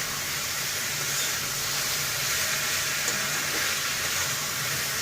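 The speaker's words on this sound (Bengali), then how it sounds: "এই পর্যায়ে আমরা এটা আরও ভালো করে নেড়ে চেড়ে নিচ্ছি।" Vegetables for chorchori fry in oil in a pan, a steady broad hiss and sizzle heard close and fairly loud throughout, with no distinct stirring strokes standing out.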